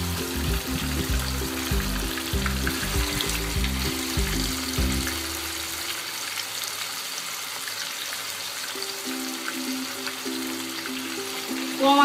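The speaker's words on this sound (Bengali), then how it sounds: "আমি কম আঁচে এটাকে কমপক্ষে 20 মিনিট ভাজবো।" Tandoori chicken frying in a pan over low heat, a constant gentle sizzle that runs throughout, with background music during the first half.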